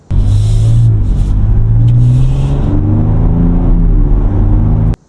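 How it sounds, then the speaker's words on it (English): Ford Ranger Raptor V6 midsize truck engine, 2026 model, revving loud and close, a deep rumbling roar that rises and falls in a couple of pulls before cutting off abruptly. "and a V6 that sounds like this."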